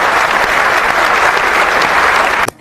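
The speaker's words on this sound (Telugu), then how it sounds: "please give him a big round of applause" Studio audience at a Bigg Boss Telugu reality show clapping loudly and steadily together, a dense sustained round of applause that cuts off abruptly at the end.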